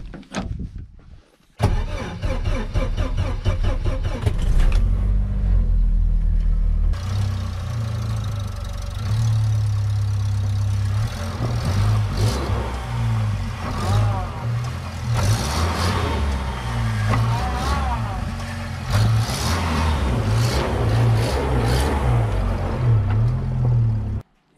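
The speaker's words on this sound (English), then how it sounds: "So I start this up intermittently just to move it around the yard" Jeep TJ engine cranks briefly, fires and catches, then settles into a loud, steady idle with a throbbing low rumble and a few revs, close by in a yard.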